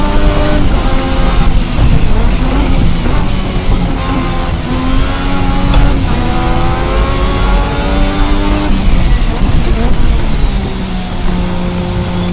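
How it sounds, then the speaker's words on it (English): A 1986 Formula RSS V6 turbo race car in Assetto Corsa revs hard to around 12,000 RPM, its loud engine note sweeping up and down in repeated climbing pitches with no talking. "So a car from 46 years ago, revving higher than a modern Formula 1 engine"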